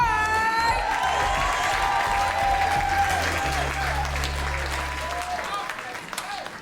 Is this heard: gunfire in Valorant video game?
no